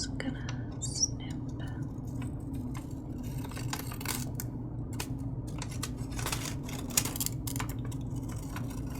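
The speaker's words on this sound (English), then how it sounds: "I'm just gonna snip" Scissors snip through paper at close range in an ASMR setting, a series of soft crisp cuts scattered across a steady low hum, with faint whisper-like sounds in the background.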